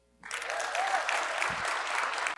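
A room full of people breaks into sustained applause at a real estate agent training event, dense clapping that swells quickly and holds steady for a couple of seconds before stopping abruptly.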